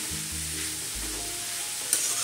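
Grated carrots cook in hot ghee for carrot halva, giving a steady, close sizzle with soft stirring scrapes and a brief louder clatter near the end, no voices.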